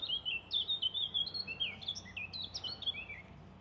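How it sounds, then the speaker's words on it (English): A European robin sings outdoors, a run of thin, high warbling phrases and chirps that rise and fall continuously at moderate distance over a quiet background, with no voices. "I can hear a robin at the moment, but the phone can't."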